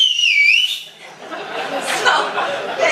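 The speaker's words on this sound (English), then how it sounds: "I said, whistle" A person at a convention panel demonstrates a short, wavering, high whistle like one used to call a horse. Audience laughter and chatter follow it.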